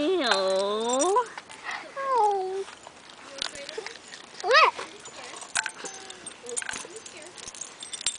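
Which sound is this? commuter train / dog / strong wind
dog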